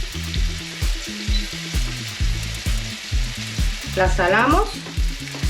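Chopped onion sizzles in hot oil in a pan, a steady crackling hiss running throughout beneath rhythmic background music, with a brief voice near the end.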